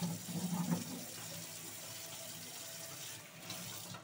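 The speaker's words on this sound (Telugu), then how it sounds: "మనకి వాటర్ కొంచెం స్లోగానే వస్తుందండి" A water purifier tap runs a slow, faint, steady trickle of water with no voices.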